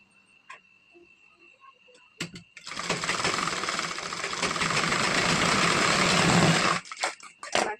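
A sewing machine stitches a blouse lining to the blouse fabric in one steady, loud run of about four seconds, preceded and followed by faint ticks and handling clicks.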